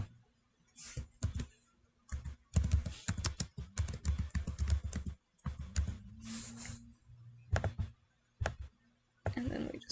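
Someone types text into Cricut Design Space on a computer keyboard, the keystrokes coming in quick irregular bursts with short pauses, close and clear, with no talk.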